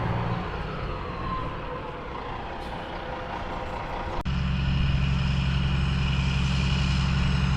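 Tow truck with air brakes maneuvering to pick up an ambulance: a steady diesel engine drone, a sharp air-brake release partway through, then a louder, heavier low idle rumble afterward, close and continuous with no talk.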